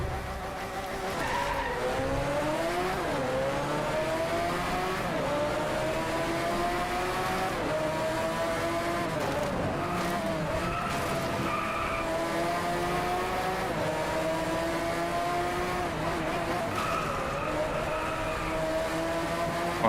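Race cars roaring through a five-lap race in the Driveclub video game, engines droning loudly and steadily with rising and falling pitch as gears shift and tires squeal, with no talking.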